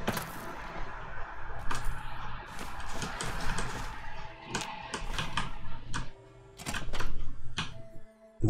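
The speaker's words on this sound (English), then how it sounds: "Sound of creaking machinery." Creaking, clanking machinery in Fallout New Vegas: a steady run of sharp mechanical clicks and clunks, some rapid and some spaced, over a low mechanical hum.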